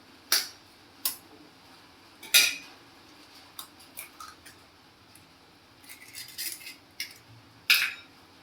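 An egg cracked open against a hard edge while plain kalaki is being made, heard as a few sharp, close taps and small clicks spread apart with quiet pauses between them.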